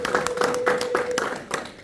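A church congregation claps in praise, a brisk, evenly spaced run of hand claps with a sustained tone or voice held faintly underneath, moderately loud and close.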